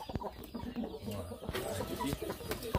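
Chickens cluck steadily around an automatic feeder in a poultry setting, several birds overlapping in short close calls with occasional louder squawks and rustling throughout.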